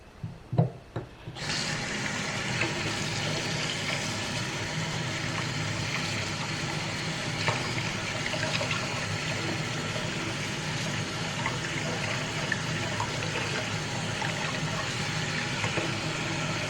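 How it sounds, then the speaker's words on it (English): Makeup brushes are scrubbed hard with heavy-duty soap under steady running water, a continuous close rush of flow after a few brief knocks at the start. "really put some pressure behind your scrubbing technique to really get these brushes clean"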